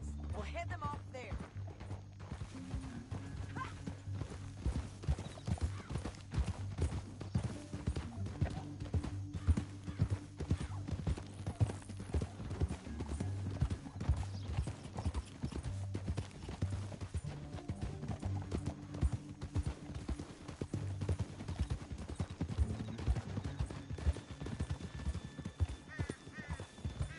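Steady clip-clop of horse hooves at a gallop in Red Dead Redemption 2 runs throughout, mixed with a low musical score and occasional voices talking over it.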